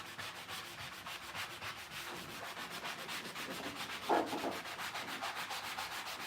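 A worn sanding block scrubs paint off a surface in fast, rhythmic back-and-forth strokes, a steady close abrasive rasp with one slightly louder scrape midway, and no talking.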